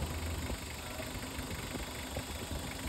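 A Mitsubishi 4D56 diesel engine with a newly replaced camshaft runs steadily at idle close by, giving a continuous even rumble and clatter with no talk over it.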